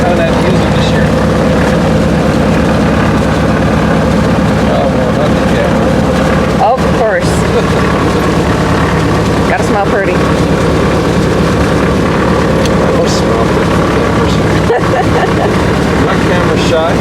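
A small bush plane's engine drones steadily and loudly at close range while being fueled before a flight to a hunting base camp in Alaska-Yukon, a constant low hum with a few brief dropouts and voices talking over it.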